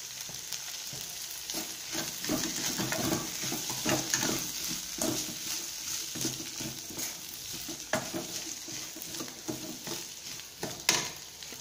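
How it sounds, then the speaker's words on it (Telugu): Cluster beans and moong dal frying in a pan with salt and chili powder, a steady close sizzle broken by repeated stirring scrapes and light clinks throughout. "ఇప్పుడు ఇందులో ఉప్పు, కారం వేసి వేయించుకుందాం."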